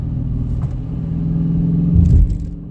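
A 2019 Dodge Challenger R/T with a six-speed manual rumbles steadily up close, its low engine note swelling into a brief louder rev before easing back, with no talk over it.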